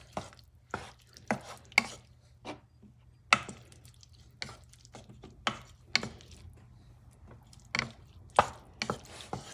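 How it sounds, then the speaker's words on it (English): Kangaroo mince and garlic being mixed together for chili, giving irregular wet clicks, slaps and scraping knocks that come and go in uneven bursts, close up with no talk. "Let me mix stuff up."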